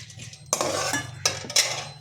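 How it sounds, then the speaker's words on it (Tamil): A spoon scraping and clinking in a pan as pumpkin and watermelon seeds roast in ghee, with three sharp metallic strokes over a soft continuous rustle, close and fairly loud. "இப்போ பம்கின் சீடும் வாட்டர்மெலன் சீடும் அதில் போட்டு வறுக்க போகிறோம்"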